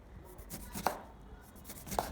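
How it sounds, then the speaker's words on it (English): A knife cuts a fresh lime into moderately thin slices on a board, two distinct soft chops over a quiet background, close by. "Then take a fresh lime. Cut it into moderately thin slices."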